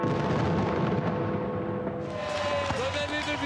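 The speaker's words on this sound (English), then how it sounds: "culminating in a traditional fireworks display over the majestic Arc of" New Year fireworks bursting over the Arc de Triomphe in Paris, with crowds on the Champs-Élysées: a dense, continuous rumble of booms and crackles, loud and sustained, with a faint whistle-like tone near the end.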